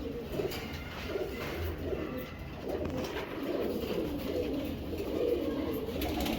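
Low rolling coos come from a long-distance racing pigeon hen and the flock around it, overlapping softly and continuously against a noisy loft background.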